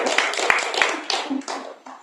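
A church congregation claps during an evangelist's sermon, a short burst of scattered hand claps with a few sharper individual claps, fairly quiet and brief.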